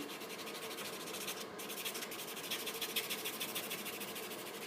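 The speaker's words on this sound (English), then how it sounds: "After you do that, buff your nail." A fingernail buffed with a nail buffer, giving a continuous close, soft rubbing hiss with rapid back-and-forth strokes and no talking.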